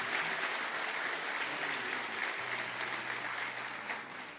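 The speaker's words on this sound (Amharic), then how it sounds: "ቆማችሁ አጨብጭቡላት" Church congregation on its feet clapping at a Sunday school recognition day service, dense continuous applause filling the room, close and even.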